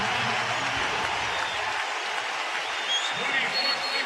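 Crowd noise in a basketball arena during a 2005 NBA playoff game, Spurs at Sonics in Seattle, as fans roar at a hard defensive play, a broad steady wash of cheering with a voice talking over it.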